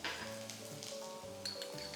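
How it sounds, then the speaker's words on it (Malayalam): Finely chopped ginger dropped into hot coconut oil in a kadai gives a faint, brief sizzle with light utensil clinks, under tonal background sounds. "ചൂടായ എണ്ണയിലേക്ക് നമുക്ക് 1 ടേബിൾ സ്പൂൺ ഇഞ്ചി പൊടിയായിട്ട് അരിഞ്ഞത്"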